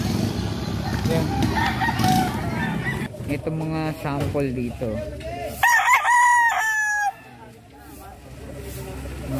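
Roosters crowing at a chicken market in Lipa, Batangas, several loud, close calls over market chatter, with people talking throughout.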